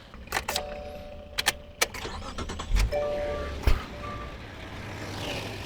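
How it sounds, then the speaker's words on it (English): Car engine being started after a jump start from a VTOMAN V6 Pro battery jumper, with a few clicks and beeps, then the engine catching and settling into a quiet, steady idle. "And then you start your car."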